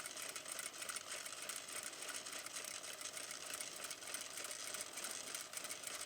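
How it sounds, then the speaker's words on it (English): Sewing machine stitching close to a fabric edge, a continuous rapid needle chatter with an even, fast rhythm at a faint, steady level throughout. "Stitch on edge means stitch should be 1 mm away of edge."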